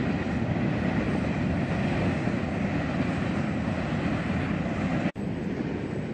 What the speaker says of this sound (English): Nothing could be more fitting than the sound of the train going by